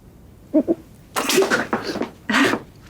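A couple of short breathy bursts followed by louder sneeze-like explosive sounds, close to the microphone in a quiet room.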